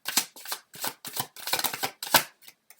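Tarot cards shuffled in a series of quick riffling bursts, each a crisp papery flutter separated by short pauses, close and fairly loud with no talking.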